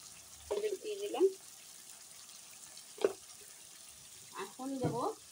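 Spice paste for rohu fish curry frying in a pan, with salt and turmeric stirred in, giving a steady low sizzle throughout, broken by a few louder clattering stirs and scrapes.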